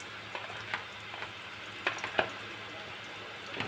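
Garlic paste fries with already browned onions in a pan, giving a soft, steady sizzle with a few faint crackles and light stirring noises, fairly quiet and without speech.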